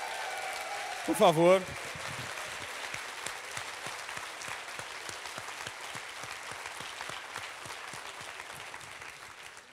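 Audience applause at the Flip 2016 literary festival, following a brief spoken phrase, then a steady, sustained wash of clapping that fills the rest of the stretch at moderate level.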